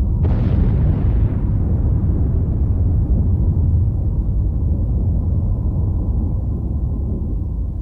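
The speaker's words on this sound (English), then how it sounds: "investigators decided to blow up some aircraft" Test explosion set off to blow up an aircraft, a single sharp blast followed by a long, loud, low rumbling roar that slowly fades over several seconds.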